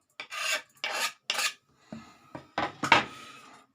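Fenugreek leaves being cut finely for a kolukattai and chutney dish, heard as about six short, raspy strokes in quick bursts, close and fairly loud, with brief pauses between.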